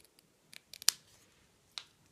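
A few quick, crisp snips of sharp scissors cutting card, one sharper and louder than the rest, with a final snip after a short pause.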